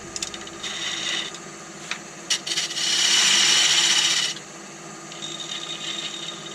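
Small wooden spoon blanks spin on a lathe as tenons are turned, a quiet motor hum under bursts of cutting and scraping, with one longer sustained cut in the middle.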